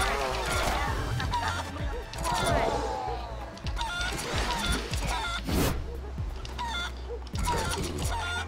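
Chickens clucking and squawking in the Guacamelee chicken section, agitated bird calls scattered over game music and impact sounds, with a voice talking throughout.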